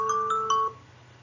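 Phone alarm chiming in a classroom: a short run of bright ringing tones, quiet and clear, that cuts off after less than a second, with no talk over it.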